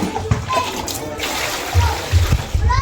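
Water splashes and trickles into a container up close, with gurgling pours and splatters, while a voice talks quietly underneath.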